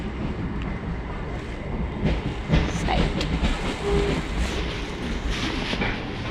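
A passenger train runs steadily, heard from inside a nearly empty carriage, with a continuous rumble and faint rattling throughout and no clear voices.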